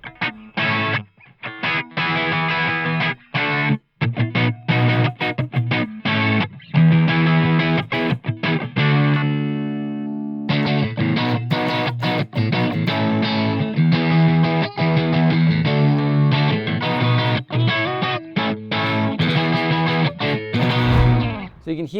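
A distorted VOX Bobcat S66 semi-hollow electric guitar plays chords and riffs with a warm, resonant tone, shifting between heavier and cleaner sounds with a brief sustained passage midway.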